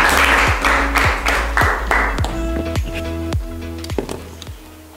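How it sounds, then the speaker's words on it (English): Scattered applause from a small group at a Toastmasters club meeting in Rwanda, sparse individual claps ringing out in an irregular rhythm with no voices over it. "Round of applause."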